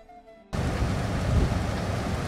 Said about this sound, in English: better representation of the rain effects